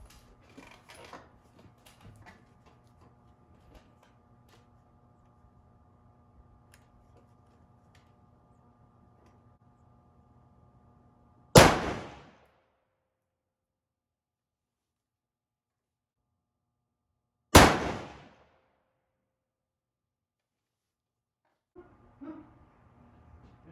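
A Savage 110 Lightweight Storm rifle in .243 fires Federal Fusion 95-grain soft-tip rounds, with two sharp, loud shots several seconds apart that cut through an otherwise quiet range with low background hum.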